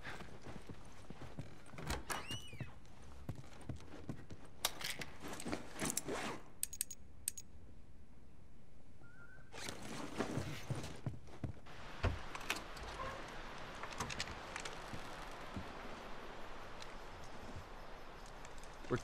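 Horse hooves clip-clop in The Last of Us, a loose rhythm of close hoof strikes mixed with shuffling, gear rattles and game ambience, with a quieter lull midway before the steps resume.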